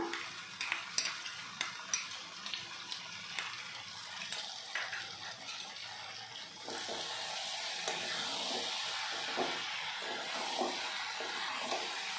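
Mixed vegetables being stir-fried with a paste of poppy seed, melon seed and green chilli: scraping stirs in the pan first, then a steady, brighter sizzle takes over as the paste goes in.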